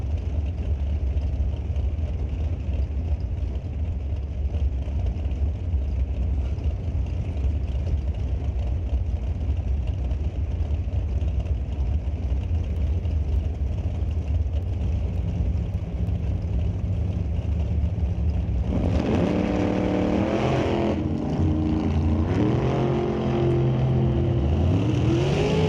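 NHRA drag racing cars launch off the line at a divisional qualifying event, with a constant heavy engine roar that swells into rising, revving tones as the cars accelerate away.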